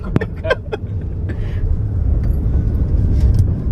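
A motorbike engine hums steadily while riding along a scenic, adventurous road, a continuous low rumble with wind noise that holds level throughout, with a brief voice early on.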